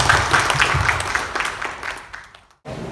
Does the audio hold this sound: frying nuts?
no